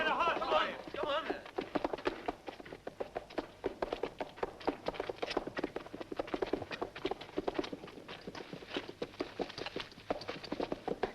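Horses gallop in a swashbuckling pirate film scene, a dense, rapid clatter of hooves running steadily throughout, with a few shouted voices at the start.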